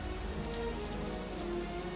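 Rain falls in a steady patter on surfaces, an even wash of drops throughout, fairly soft and with no voices.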